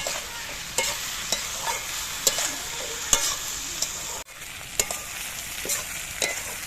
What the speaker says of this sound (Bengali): এবার পেঁয়াজকলিগুলোকে অল্প আঁচে ভেজে নিতে হবে।